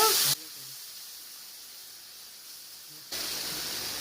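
Water poured into cumin, mustard, coriander, chilli and turmeric paste frying in oil for a bhetki fish curry: a loud, sharp sizzle that drops to a soft steady hiss, then flares up again, close by.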